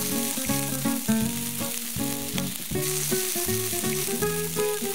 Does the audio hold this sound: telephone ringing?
no